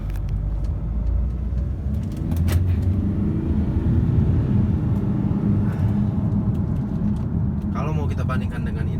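A turbocharged Chevrolet Captiva SUV on the road, with a steady engine and road rumble filling the cabin throughout, constant and moderately loud, while someone speaks over it.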